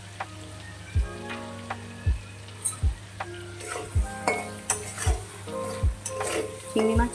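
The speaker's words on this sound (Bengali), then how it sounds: "চিংড়ি মাছ খুব একটা ভালো করে আমি ভাজবো না, হালকা করে ভেজে আমি তুলে নেব" Prawns seasoned with salt and turmeric fry lightly in a pan, a continuous sizzle broken by regular sharp scrapes and clinks of a spatula against the metal, about one stir per second, close and clear.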